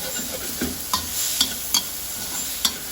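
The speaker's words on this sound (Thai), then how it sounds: "นี่ค่ะผัดให้เป็นหอมนะคะเนาะ" A wok stir-fry with pepper and seasoning sauce sizzles steadily, broken by several sharp scrapes and clacks of the spatula against the pan.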